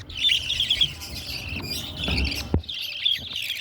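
African lovebirds in a breeding cage chirp and tweet in quick, repeated bursts close by, with soft rustling and a brief knock partway through.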